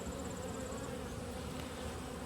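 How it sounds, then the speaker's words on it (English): Honeybees buzz steadily during a fall hive inspection, a close, continuous droning hum with no pauses. "We've got about a nuke and a half's worth of bees here"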